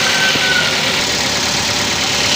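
A car engine idles steadily nearby at about 800 rpm, a continuous even rumble with no talking.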